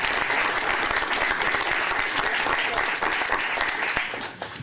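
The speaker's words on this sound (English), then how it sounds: "So a round of applause for them as well." An audience at a Green Bay Rail Yard Innovation District event claps steadily in a dense, sustained round of applause, fading slightly at the end.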